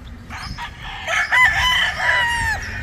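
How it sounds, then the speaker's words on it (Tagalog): Many gamecocks bred for fighting crow loudly over one another at close range, with overlapping cock-a-doodle-doo calls and scattered clucks in a busy rooster yard. "Daming manok."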